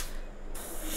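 Airbrush spraying black grime paint onto a model train at about 30 psi, a steady close airy hiss that briefly thins midway and then resumes at full strength, with no voices.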